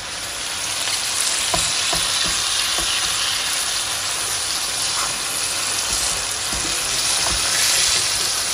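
A fish sizzles in hot oil in a pan for a home-style curry, a steady loud frying hiss with a few sharp clicks and taps as the fish is turned over.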